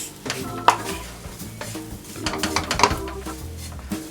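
Butter and flour cooking into a roux for white sauce over low heat, with a gentle sizzle under repeated stirring and light scraping of a utensil against the pan, close and soft.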